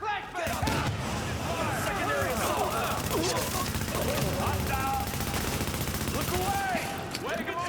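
Rapid automatic gunfire from the player in a first-person shooter video game, dense sustained bursts filling the whole stretch, loud and close, with other game effects mixed in.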